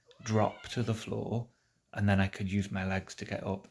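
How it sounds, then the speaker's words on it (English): A cat meows in the background while a person talks steadily over it in the foreground. "the noise you can hear in the background is just the cat."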